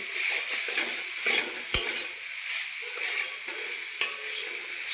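Spices frying in a pan with homemade mustard powder just added, a continuous bright sizzle with soft stirring scrapes and two sharp utensil taps on the pan.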